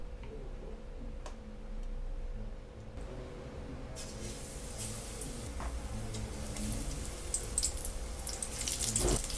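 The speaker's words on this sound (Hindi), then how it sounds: "हरी मिर्च को बेसन में डिप करके ऑयल में फ्राई होने के लिए डाल देंगे" Green chillies dipped in gram flour batter dropped into hot oil in a kadhai, a faint background hum giving way midway to a steady hissing sizzle of frying that builds toward the end.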